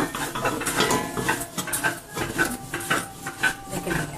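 Metal pot lid clinking and scraping against the pot while jackfruit boils inside, several irregular rattles and taps up close with no voice over them.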